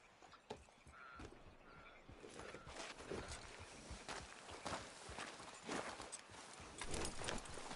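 Horse hooves walk in Red Dead Redemption 2, a steady clip-clop of footfalls over continuous outdoor game ambience, holding a fairly even pace throughout.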